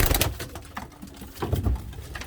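Blue bar pigeon with an apparently injured leg, caught out in an April rainstorm, giving low soft coos in two bursts close by, with no talking.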